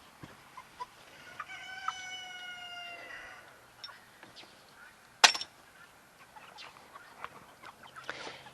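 Chickens cluck and a rooster crows in a drawn-out call early on, followed by scattered clucks and a sharp burst of noise, fairly quiet overall.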